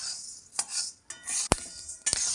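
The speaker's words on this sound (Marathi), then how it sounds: "हे बघा, ज्वारीच्या सुद्धा अशा मस्त लाह्या फुटायला लागलेल्या आहेत." Jowar (sorghum) grains dry roasting in a pan over low heat, with several sharp pops and crackles spaced irregularly between hissy rustling, close and fairly loud.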